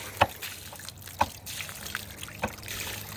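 Small babbling brook in Hidden Valley Wildlife Preserve, with a soft, close trickle of water broken by a few sharper splashy drips and gurgles at uneven intervals.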